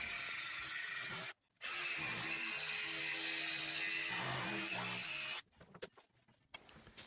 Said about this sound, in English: Fire up that jigsaw.